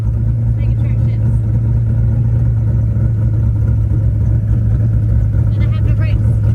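Car engine with a TKX manual transmission running loud and steady close up, a constant low rumble with faint clatter and brief voices over it.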